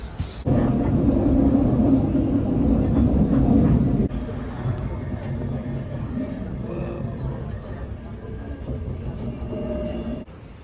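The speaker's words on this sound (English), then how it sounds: "And that's my train right there." A Swiss train pulls in, a loud close rumble of wheels and carriages that eases to a lower steady roll, with brief voices beneath it.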